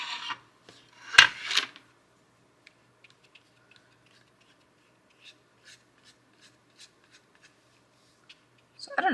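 A drawing tool rasps across paper as blue color goes onto an anime drawing, with a burst of scratchy strokes at the start, sparse faint ticks and rubs in between, and more scratching at the end.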